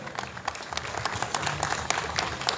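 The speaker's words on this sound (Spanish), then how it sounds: "Fuertes los aplausos para ella, por favor." Audience applause at the opening of a pig-roast food festival in Chancay, a fairly soft, steady patter of many hands clapping with sharp individual claps standing out, no talk over it.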